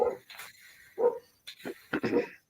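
A pet dog barks in short bursts at people passing the front of the house, several close loud barks with brief gaps, mixed with some voices.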